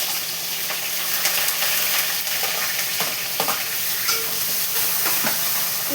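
Green chillies and onions frying in a pan, a loud continuous sizzle and hiss with occasional scraping stirs, close up and steady throughout.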